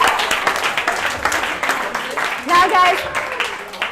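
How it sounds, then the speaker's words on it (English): An audience at a marketing talk applauds itself after a short energizing exercise, a brief wash of claps in the room while a presenter's voice talks over it. "Give yourself a round of applause"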